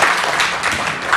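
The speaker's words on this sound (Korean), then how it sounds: "우리 박수로 환영하겠습니다" A church congregation at a Korean church service applauds together, a dense, steady wash of many hands clapping at moderate loudness that continues evenly throughout.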